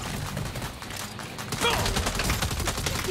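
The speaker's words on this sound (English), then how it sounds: "Hold on, why am I using my pistol?" Rapid bursts of gunfire from Saints Row crackle through the whole clip, close and dense, with a louder flurry in the second half.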